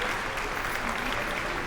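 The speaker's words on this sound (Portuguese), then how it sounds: "Ei, vamos aplaudir o Rei dos Reis e o Senhor dos Senhores." Church congregation applauding, a dense, steady wash of many hands clapping at once, fairly loud and sustained without pause.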